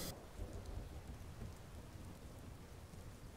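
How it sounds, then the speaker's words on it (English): Steady rain with low thunder rumbling in the Skyrim video game, a dense, continuous wash of sound without speech. "It's raining, how hideously hideous."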